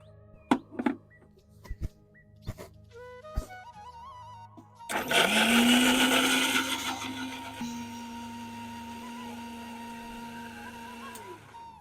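A kitchen mixer grinder whirs loudly as it grinds green pigeon peas and their pods into a gravy, starting abruptly after a few knocks and clatters, roaring steadily for several seconds, then dropping to a lower hum before stopping.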